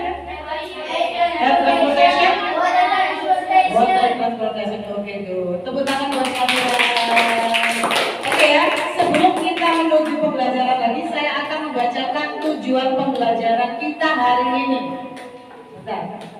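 A class of fourth-grade children claps in a classroom, a short burst of rhythmic claps rising midway through, surrounded and partly covered by the children's voices and chanting that continue throughout.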